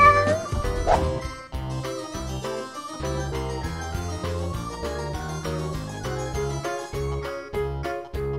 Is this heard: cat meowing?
yes